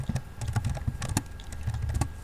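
Rapid, uneven clatter of keys on a computer keyboard as Java code is typed, close and fairly quiet, with bursts of quick strokes and brief pauses and no talking.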